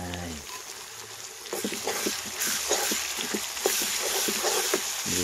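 Onion, garlic and ginger paste dropped into a pan of frying potatoes, giving steady sizzling with scattered crackles and spatters that swell as the paste hits the hot oil.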